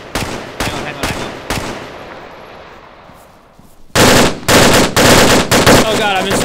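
Machine gun fire in Arma 3, loud close bursts of rapid automatic shots at the start, a fading reverberant tail, then heavier sustained bursts from about four seconds on.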